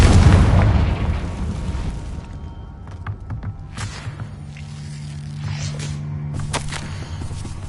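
A Confringo blast spell explodes in Hogwarts Legacy, opening with a loud booming burst that rumbles and fades, then sharp crackling pops and a low lingering hum afterward.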